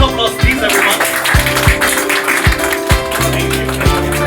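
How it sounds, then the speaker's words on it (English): Audience applause at the inauguration of a Vivo exclusive store in Howrah, with steady broadband clapping running throughout under a background tonal hum and a few thumping hits. "Another round of applause, please, everyone."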